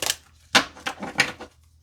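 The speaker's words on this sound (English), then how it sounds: "I'm going to shuffle over here and then I'll bring it back" Tarot cards being shuffled by hand, a few quick crisp riffling bursts close by, each snapping and fading within a fraction of a second.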